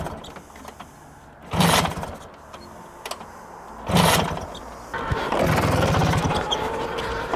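A Vespa PX scooter with a very short kickstarter and a kinked fuel hose gets kickstart attempts: two sharp mechanical kicks with brief sputters, then a rough, sustained engine-like churn that never settles into a clean idle.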